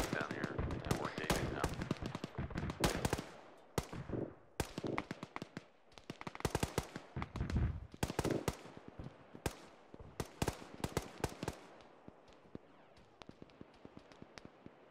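Rapid bursts of automatic gunfire and single shots crackle through a military video game firefight, dense volleys with brief lulls, fairly loud and sustained throughout, with occasional voices underneath.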